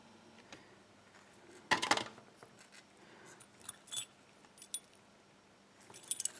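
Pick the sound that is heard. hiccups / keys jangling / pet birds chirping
keys jangling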